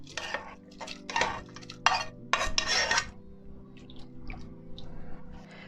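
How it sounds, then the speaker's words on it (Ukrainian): A utensil scrapes and clinks against a saucepan as chopped vegetables for zucchini soup are stirred, in uneven bursts of rasping strokes with quieter pauses between. "Тепер всі наші овочі відправляємо у каструлю на 2-3 хвилини."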